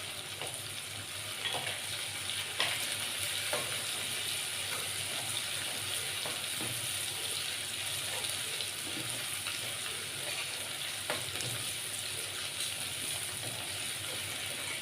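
Ginger and green chilies sauté in a pan for a Kathiyawadi-style chickpea curry, giving a soft steady sizzle with occasional faint stirring clicks.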